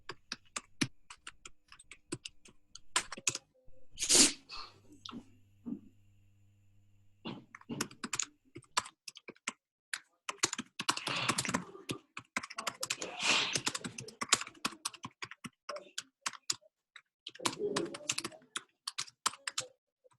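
Steady typing on a computer keyboard during a coding session, with dense bursts of close, crisp key taps, a few short pauses, and sharper isolated clicks in between.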